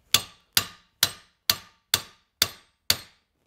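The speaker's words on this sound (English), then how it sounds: "grab my bigger punch and just punch it back in" Seven evenly spaced, sharp hammer strikes on a metal punch drive a pin back into a Tecumseh LCT snowblower recoil starter, each hit a crisp, close metallic tap that rings briefly and decays quickly.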